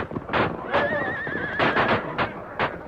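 A horse neighs in a long wavering whinny amid bursts of gunfire and shouting voices, with another whinny soon after, in a 1939 radio drama broadcast.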